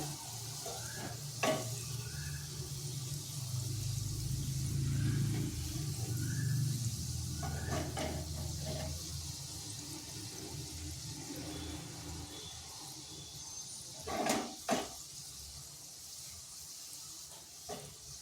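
Low bubbling of wheat-flour gulab jamun sweets frying in oil with occasional scraping stirs and clinks, fairly quiet and continuous throughout.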